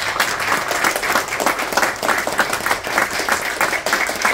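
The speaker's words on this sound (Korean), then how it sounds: "우리 크게 박수 한번 쳐주십시오" Audience applause fills a press conference hall, a steady dense patter of many hands clapping at moderate loudness, continuing evenly throughout without speech.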